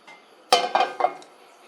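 A heating pan with oil for an omelette is tilted and moved on the stove, giving a few close metallic scrapes and clanks in quick succession over quiet background.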